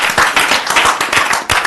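At a Manhattan Beach city council meeting, a small group claps briefly, the individual hand claps close and distinct in a short burst.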